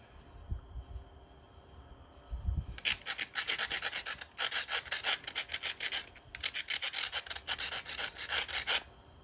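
Stone being ground heavily on a coarse grinding stone: a loud, close rasping scrape in rapid repeated strokes, starting after a few quiet seconds and continuing in bursts with short pauses.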